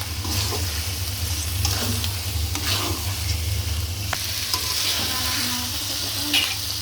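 Food, with milk about to be added, is stirred in a frying pan under a steady sizzle, with scattered soft scraping strokes of the spoon over continuous frying noise.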